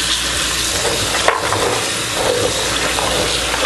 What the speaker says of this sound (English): Pour in some fresh water